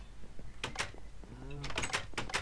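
A door shutting in a video game, a couple of quick clunks and a short sliding scrape, close by amid faint background voices.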